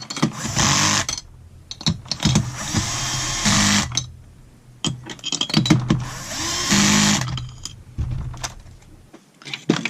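A power tool drives bolts down to light torque, fitting the diagonal bolts first, in a series of loud, close whirring bursts of a second or so each, separated by short pauses and light clinks.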